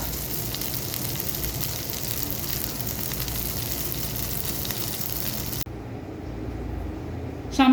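Shami kebabs shallow frying in oil in a pan give a steady, dense sizzle close up, which cuts off sharply near the end and leaves a quieter hiss before a brief clatter.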